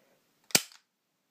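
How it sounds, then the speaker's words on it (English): A single sharp mechanical click as the hammer of a KWC Desert Eagle CO2 blowback airsoft pistol is cocked back, close and isolated in otherwise quiet surroundings. "Yeah, I cocked the hammer back."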